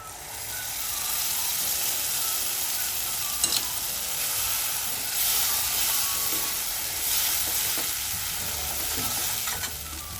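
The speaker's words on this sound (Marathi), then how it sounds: "आता याला छान मस्त पैकी फ्राय मस्त तेल सुटू द्यायचं." Ground onion-garlic masala paste with chilli, turmeric and salt sizzles steadily in hot oil with mutton, a continuous loud frying hiss with occasional stirring scrapes, no talking.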